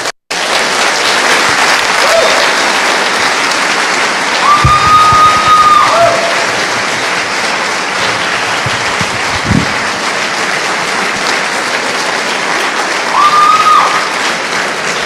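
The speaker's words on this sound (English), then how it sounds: "you can applaud again, that's okay" Sustained applause from a community gathering in Cincinnati fills the room, steady and fairly loud, with a brief voice rising over it at moments.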